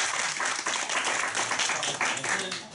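An audience claps steadily and fairly loudly to welcome a speaker at a Taichung meetup, a dense, continuous wash of applause with no voices standing out.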